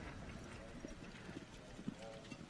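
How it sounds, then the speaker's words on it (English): Hooves of a horse in extended canter at a dressage show, faint rhythmic thuds on the arena surface beneath an announcer's commentary. "And here the extended canter."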